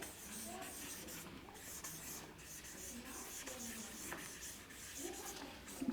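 Writing on paper or a board during a lesson, with soft scratchy strokes coming in short bursts and pauses, quiet and close, with no talking.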